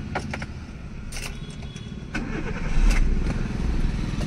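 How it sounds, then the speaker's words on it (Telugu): A Chevrolet Beat LS LPG car engine cranks and catches, rising into a low idle rumble, with a few clicks and rattles near the start. "మనం ఇంజన్ ఆన్ చేద్దామన్నా."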